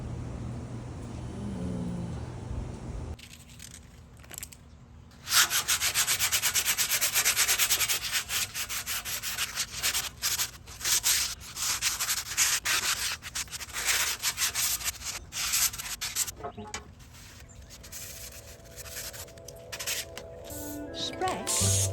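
Steady abrasive rubbing of sanding a metal tray, continuous and fairly loud from a few seconds in, with brief pauses and a low hum underneath.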